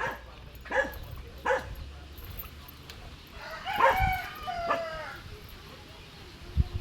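A dog barks a handful of times at close range, in short separate outbursts, with rooster and chicken sounds nearby and people talking around it.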